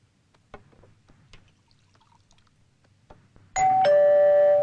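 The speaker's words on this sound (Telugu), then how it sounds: "కాలింగ్ బెల్ ఉంది అది కాలింగ్ బెల్లే అన్నా" A doorbell chimes suddenly and loudly, a clear two-tone electronic ding-dong that rings out after a few seconds of quiet room sounds and faint taps.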